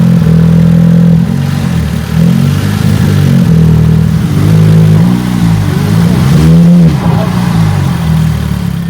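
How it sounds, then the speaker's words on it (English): A cheap, neglected VW Golf R runs loud and close, its engine holding a steady hum and rising into several revs from about five to seven seconds; nobody speaks. "Car has fired up."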